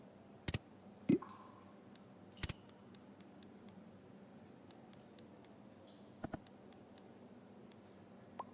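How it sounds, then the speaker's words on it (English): Sharp clicks in the video game Loco Motive, scattered at irregular intervals, each a crisp isolated tick over a quiet background hum, with no talking. "Who is doing that obnoxious clicking?"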